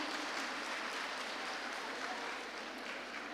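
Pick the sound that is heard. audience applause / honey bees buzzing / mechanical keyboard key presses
audience applause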